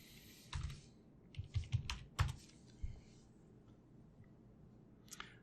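Keys tapped on a computer keyboard while entering a login, sparse clicks in short clusters, quiet and close in a hushed room.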